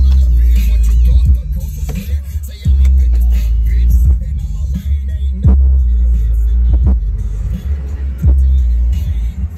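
Deep car stereo bass from a 2022 Ford Maverick is heard from outside the vehicle, a loud, steady low-end thump with rhythmic booming pulses throughout.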